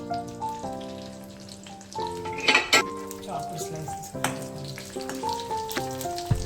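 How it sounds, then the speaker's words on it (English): Coconut pieces fry in a couple of spoons of hot oil over a medium flame, making a soft, uneven sizzle with scattered pops and a few brief utensil clinks. "Once the oil is heated up, I'll just fry these coconuts here."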